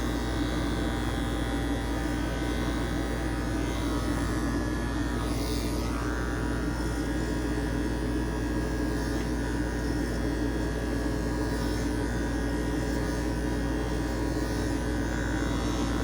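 Electric hair clipper buzzing steadily as someone cuts their own hair inside a camper, a close, constant motorized hum with slight shifts in tone as the blade passes through hair, no voices.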